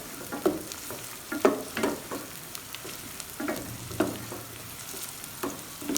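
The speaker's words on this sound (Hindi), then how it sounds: "फ्राई कर लें अच्छी तरह प्याज" Onions sizzle in a pan as they are stirred and fried for a chana dal masala, with soft scraping strokes recurring every second or so over a low, steady frying hiss.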